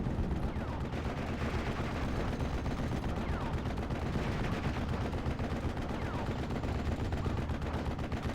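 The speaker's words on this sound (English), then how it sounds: "So this area will be shortly devastated by huge artillery." Artillery barrage in the World War II strategy game Steel Division 44, a dense unbroken roar of rapid explosions and gunfire rumbling continuously and loudly with no pause.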